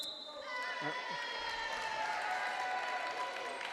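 A crowd applauds at a college volleyball match between Tufts and Hamilton, steady clapping filling the gym for several seconds, with a few squeaks and bounces from the court and voices mixed in.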